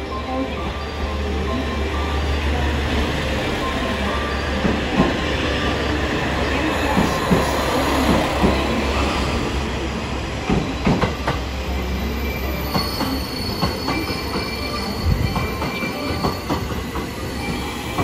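The Sunrise Seto/Izumo sleeper express pulls into Okayama Station, with steady rail rumble, clacking wheels and faint squeals continuing under platform noise and distant announcements.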